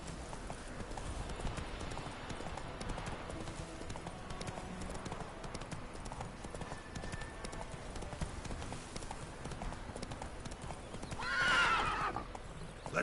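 In The Witcher 3: Wild Hunt, a horse's hooves clip-clop in a fast, continuous beat, and near the end a loud neigh rings out above the hoofbeats.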